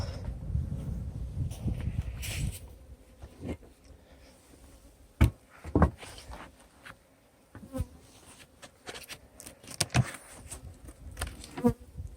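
Honeybees buzz around an open beehive during a feeding check, a steady low hum of many insects close by with a few louder passes and brief knocks, no talking.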